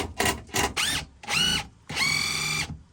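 A power tool works at rusty bolts in an 1840s Isle of Skye cottage, running in short bursts: three quick whirring pulses, then two longer whining runs that rise and fall in pitch, close and loud, with no talk.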